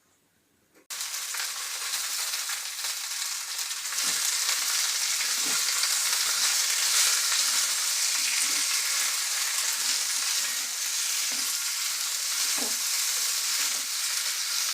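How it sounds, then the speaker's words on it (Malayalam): Okra frying in oil in a pan just used for roasting coconut, a loud, steady sizzle that starts abruptly and continues with occasional stirring scrapes. "നാളികേരം വറുത്ത ആ ചട്ടിയിൽ തന്നെ നമുക്ക് കുറച്ച് എണ്ണ ഒഴിച്ച് കൊടുത്തിട്ട് ഒന്ന് വറുത്തെടുക്കാം"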